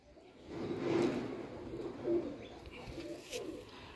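Pigeons of a high-flyer breed cooing, a few low soft coos over about four seconds with background rustle, moderately near and not overlapped by speech.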